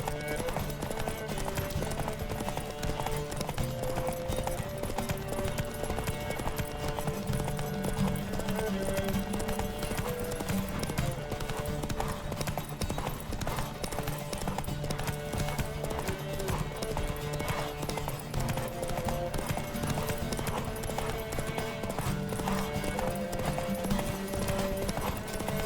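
Hooves clip-clop rapidly and steadily throughout a horse race in The Witcher 3, several horses galloping together under a constant bed of game music, with a voice calling out over the pounding rhythm.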